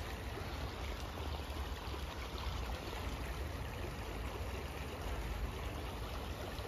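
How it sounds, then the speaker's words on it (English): A small stream flowing at low tide on the coast, a steady close rushing babble of water that holds unchanged throughout with no voices. "Oh, it's a stream at the minute."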